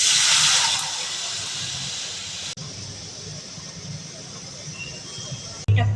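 A curd and gram flour mixture is tipped into a hot tempering of chilli paste for kadhi. It sizzles loudly at first, then settles into a softer, steady hiss with a brief clatter near the end.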